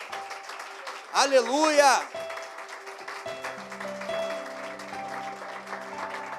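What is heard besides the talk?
church congregation applauding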